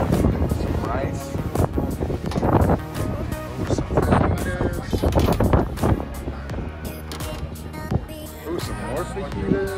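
Gusty wind buffets the microphone with low rumbling roars throughout, while a person talks over it.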